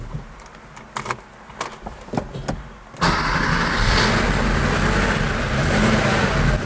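A classic Porsche engine with well-kept original mechanics fires up after a few clicks and clunks, then settles into a loud, steady running rumble close by with slight rises in revs.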